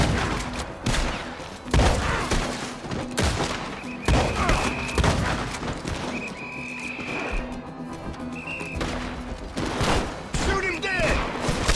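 Gunfire in Red Dead Redemption II, a rapid string of sharp shots and thuds over roughly twelve seconds, loud and close, mixed with horse sounds and someone speaking over it.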